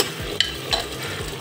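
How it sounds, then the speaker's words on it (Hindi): Cooked mutton keema stirred in a pan at close range, a steady sizzle with repeated scraping strokes of a spoon against the metal, roughly three sharp clinks spread over the stir. "अब इसको हम भून लेंगे"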